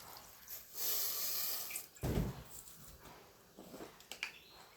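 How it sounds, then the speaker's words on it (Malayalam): A small amount of water poured into a pot of cooking spinach, heard as a quiet splash and gurgle in short bursts, with soft clinks of the pot. "ഇച്ചിരി വെള്ളം ഒഴിക്കുവാണേ"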